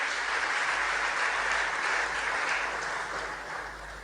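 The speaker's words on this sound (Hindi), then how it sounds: "तालियों से स्वागत" At a ceremony in Minto Hall honouring UPSC toppers, a large crowd applauds continuously, a dense, steady wash of clapping that holds for about four seconds and eases slightly at the end.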